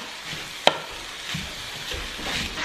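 Spicy Korean-style sauce with sesame seeds being stirred into beef steak in a pan, with one sharp utensil clack against the pan followed by a gentle sizzle and soft scraping.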